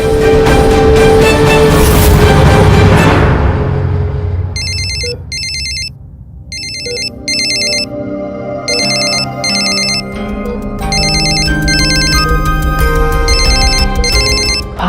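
A phone ringtone rings loudly during a call, a repeating electronic melody in bursts after a swell of background music, continuing steadily to the end.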